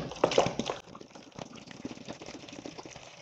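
Water poured from a bottle into the small tank of a children's toy kitchen set, a soft close trickle and splash that starts strongest and settles into a steady low gurgle; no voices.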